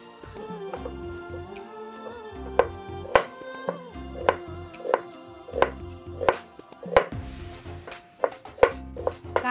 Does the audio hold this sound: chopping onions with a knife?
yes